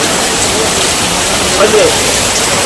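Heavy rain pours over Diu, with roads flooded like rivers. A loud, dense, steady hiss of water fills the whole stretch without pause, and no voices are heard.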